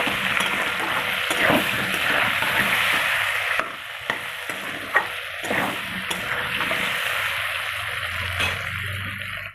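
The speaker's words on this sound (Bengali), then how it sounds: "দিয়ে আলুটাকেও লাল করে ভাজতে হবে" Potatoes with a little salt and turmeric fry in a pan with a steady, fairly loud sizzle, broken by occasional scrapes and stirring knocks, with no talking.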